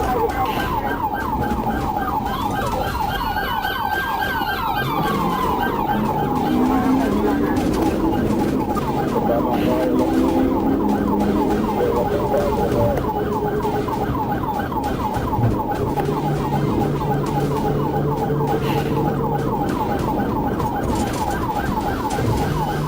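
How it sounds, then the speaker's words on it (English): A police patrol car's siren wails continuously while it chases a speeding Cadillac on the I-95 highway, loud and close, cycling over steady road and engine noise. "After lights and sirens were activated"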